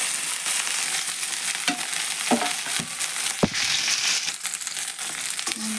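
Chopped okra sizzling as it fries in hot oil in a pan: a steady, hissing crackle that stays fairly close, broken by a few sharp scrapes and knocks from stirring.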